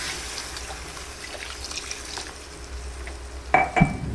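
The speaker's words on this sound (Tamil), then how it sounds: "தண்ணி ஊற்றிடுவோம்." A quiet, steady sizzle of spiced eggplant curry, then near the end a short, close splash as water is poured into the pot.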